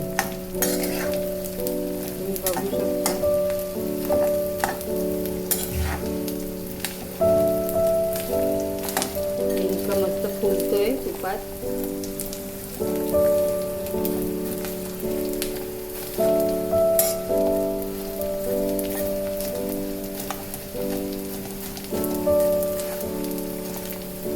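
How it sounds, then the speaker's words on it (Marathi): Edible gum (dink) sizzles and crackles as it fries in hot oil for methi laddu, a steady close hiss with scattered pops and tonal tones running throughout, no voices. "त्याच्यामध्ये आपण डिंक टाकूयात थोडं वाढवूया म्हणजे आपण डिंक चांगला तळून"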